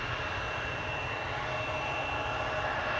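Jet aircraft departing Amsterdam Schiphol Airport, with a steady, loud engine roar and a thin high whine heard close by for the full few seconds.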